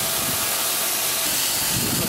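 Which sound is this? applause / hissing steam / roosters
hissing steam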